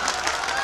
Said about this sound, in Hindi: एक बार जोरदार तालियां मुशायरे के लिए बजा दें